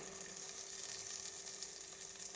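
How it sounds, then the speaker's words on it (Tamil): Onion, tomato, garlic and ginger paste sautéing in a hot pan for a catfish curry, giving a steady, even sizzle and crackle throughout, close up and fairly soft, with no talk. "இப்போ இந்த பேஸ்ட் வந்து இதில் ஆட் பண்ணிக்க போகிறோம்."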